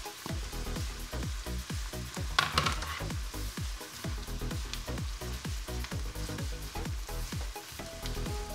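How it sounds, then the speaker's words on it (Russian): Onion and carrots sizzle steadily in a frying pan, a constant crackling hiss broken by a regular series of low scraping stirs, close and fairly loud, with no one talking. "Обжарим лук и морковь до готовности."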